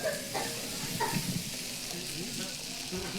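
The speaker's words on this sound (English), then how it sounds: "Oh, and you put the sauce directly on it as it's sizzling." A hot plate in a steakhouse sizzles as sauce goes onto trout, a soft, steady frying hiss with brief pops, heard under faint nearby voices.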